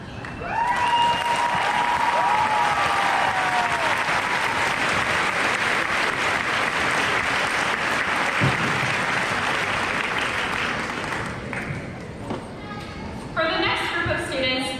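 Sustained loud applause from a large crowd at a high school graduation ceremony fills the space, with a few whoops and cheers rising over it before it tapers off and voices follow.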